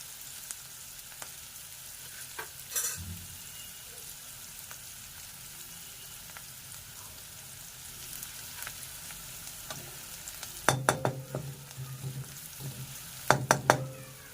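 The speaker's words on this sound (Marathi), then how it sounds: "भाजत आलाय कांदा तर त्याच्यामध्ये ना तुम्ही अद्रक लसूण आणि खोबरं टाकून घेते" Onion fries in a pan, with ginger, garlic and coconut added toward the end. A soft, steady sizzle runs underneath, and a few sharper crackling bursts and stirring clatters come late. The sound is faint and there is no talk.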